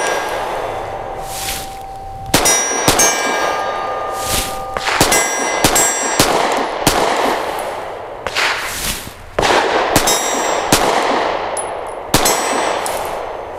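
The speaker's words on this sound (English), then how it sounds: "these shots are really just to get a feel for the gun" Gunshots from a Canik METE MC9 pistol fired at a target 25 yards away on a range, with sharp loud cracks in an irregular series and ringing metallic echoes between them.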